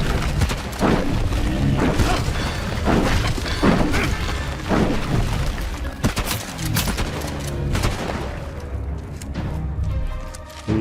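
Rocket blasts level buildings in the game Chernobylite 2, a steady run of loud booms and shattering crashes with rumbling debris, dense and continuous, fading toward the end.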